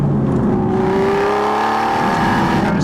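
An Aston Martin driven hard on a canyon road out of the desert in San Diego County roars loudly and continuously, engine pitch sweeping upward and downward through acceleration and shifts.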